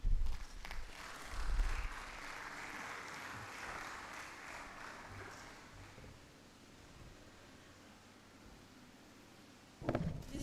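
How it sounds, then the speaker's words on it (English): A conference audience applauds after a lecture. The clapping is loud at first and then thins to a long, soft wash of scattered claps in a large hall. A brief knock or thud comes near the end. "Sustain the applause."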